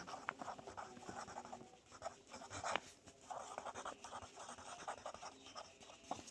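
A pen scratching on paper as an equation is written out by hand, soft, close scribbling strokes in short bursts with brief pauses.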